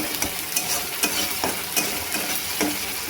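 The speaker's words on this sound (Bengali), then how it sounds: "দেখুন মশলাটা থেকে বেশ সুন্দর মশলাটা ভাজা ভাজা হয়ে গেছে, তেল ছেড়ে গেছে" Spice paste frying in oil while cooking a bata fish curry, a steady close sizzle broken by regular scraping stir strokes about twice a second, with no talking.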